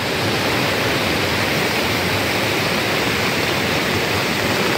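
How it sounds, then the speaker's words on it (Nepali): Heavy rain pouring down outdoors near a stream, a dense and even roar that fills the whole stretch at a constant loud level with no voices. "यति बेला ठुलो पानी परिरहेको छ"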